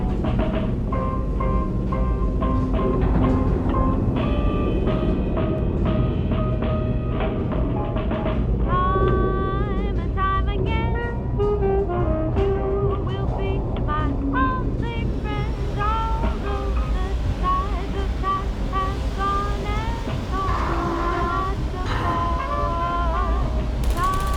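A train ride pulls into a station in the video game Portal Stories: Mel, with continuous rumbling and mechanical clanking, ratcheting and creaks under layered music tones, growing busier toward the end.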